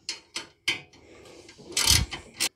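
Socket ratchet loosening bolts on a snowblower's metal cover, several close, sharp clicking bursts and a short rattling scrape in quick irregular succession.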